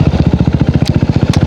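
Close, loud KTM Duke 390 single-cylinder engine chugging in a steady, even pulse, with a couple of brief sharp clicks or rattles over the rhythmic thumping.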